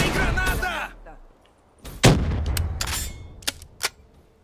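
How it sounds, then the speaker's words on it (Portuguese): Grenade blast in the Black Ops 3 multiplayer shooter, one heavy boom followed by a few sharp gunshots, heard after brief talk at the start. "Lá vem granada."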